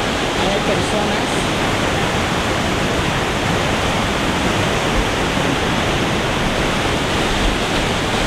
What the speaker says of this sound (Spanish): Toneladas y toneladas de agua que pasan a mis espaldas, miles de toneladas por segundo.